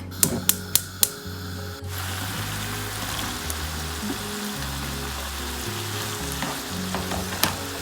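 Thai red curry paste fries in a pan over high heat with a steady crackling sizzle throughout, a few sharp taps of utensils at the start and occasional stirring scrapes, close up with no talk.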